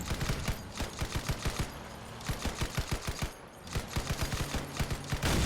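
Rapid tap-fire gunshots in a video game, crisp repeated bursts of evenly spaced shots with two brief pauses, loud and close with no talking over them.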